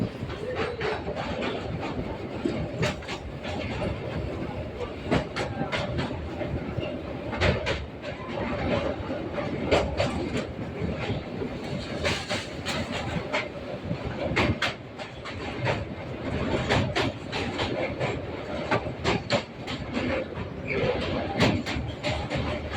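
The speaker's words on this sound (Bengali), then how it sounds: "আমাদের ট্রেন এখন প্রবেশ করছে বিবেকানন্দ সেতুতে" A local train on the Sealdah–Dankuni line crossing Vivekananda Bridge, with a continuous rumble and rapid rhythmic clatter of wheels over the rail joints, steady and loud throughout.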